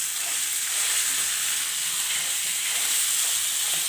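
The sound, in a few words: mixing mashed potato into frying pan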